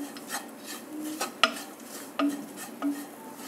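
A spoon stirs white poppy seeds into a chickpea masala curry in a pan, giving soft scraping and rubbing with a few sharp metallic clinks, close and quiet, without speech.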